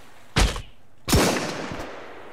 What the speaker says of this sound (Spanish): Sí, me están disparando todavía.